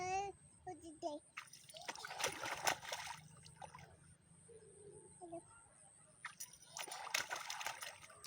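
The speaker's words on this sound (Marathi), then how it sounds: "नितळ पाण्यात उड्या मार" A child splashes and jumps in clear water outdoors, with bursts of splashing and sloshing under an adult's voice and a child's chatter, and birds calling now and then.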